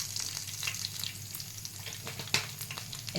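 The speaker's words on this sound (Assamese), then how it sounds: "মই কেৰাহীত এতিয়া তেল গৰম হ'বলৈ দিছোঁ।" Oil heating in a wok on a gas stove before cooking mustard-style fish: a soft steady sizzle and crackle with a few sharp pops, close and quiet, no voices.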